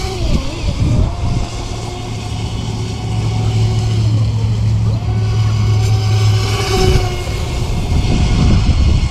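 A ProBoat Recoil 2 RC boat racing at full throttle near a shoreline, its electric drive a steady loud whine with shifting pitch over water and wind noise.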